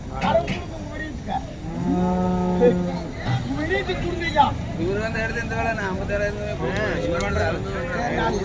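Cattle moo repeatedly at a busy cattle market where HF and Jersey calves are traded, several long drawn-out lows overlapping with nearby people talking and crowd chatter.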